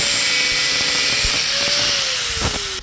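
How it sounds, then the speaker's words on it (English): An angle grinder cuts through a PTFE brake line with a nylon core on a Lamborghini Gallardo, making a loud, continuous high whine with a slowly shifting pitch and a few brief grinding bursts. "Let's cut it with an angle grinder."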